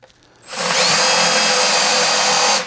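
A power drill fitted with a 3/4-inch bit bores a hole in wood at high speed in its higher gear, making a loud, steady whine that starts up quickly and holds for about two seconds.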